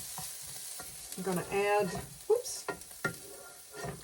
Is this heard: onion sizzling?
yes